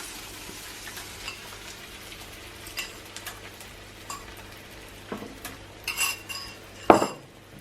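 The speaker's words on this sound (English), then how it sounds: "so let's add the eggs" Eggs go into a pan for a Colombian breakfast with arepas, bringing light sizzling, clinks of a utensil against cookware and a sharp clatter near the end, all fairly quiet with no talking.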